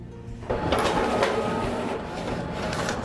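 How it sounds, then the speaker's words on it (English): Printer feeding 13 by 19 inch paper from the bypass tray, starting abruptly with a loud steady mechanical whir and rattle that runs continuously, close and without talk. "I'm gonna go ahead and hit print."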